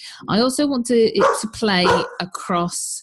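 A pet dog barks and yips in the background, mixed in with a person talking steadily in the foreground.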